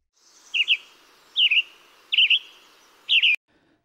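Western tanager singing on Vancouver Island near Port Alberni, four short burry robin-like phrases spaced evenly about a second apart, clear and fairly close against a quiet background.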